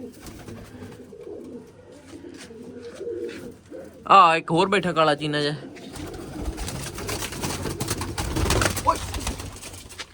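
Pigeons kept by a fancier coo in their loft, a soft murmur at first, then clearer calls rising over a voice, with steady ambient noise throughout.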